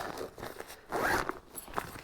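A backpack zipper pull is tugged along the tool pocket of a Raide Research 40L pack, giving a quick ripping zip with small clicks and rustles, close and fairly quiet with no talking.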